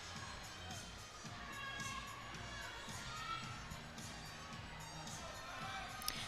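A large crowd cheers and shouts steadily at a college gymnastics meet in Nebraska's home arena, a dense, continuous roar of voices with children's shrieks rising above it throughout.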